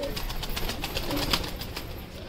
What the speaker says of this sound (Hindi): ईसू के कबूतर अबूतर खुले हैं